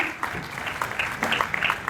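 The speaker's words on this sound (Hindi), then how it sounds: "तालियों से स्वागत करें हमारे मेहमानों का" A short burst of applause, a scattered patter of clapping hands from a small crowd, fairly close and uneven.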